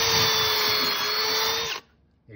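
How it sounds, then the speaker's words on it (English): A power drill boring into a rotten timber chord of a covered bridge, a loud steady high-pitched whine close by that cuts off abruptly near the end, leaving near silence. "And when I do turn the drill on,"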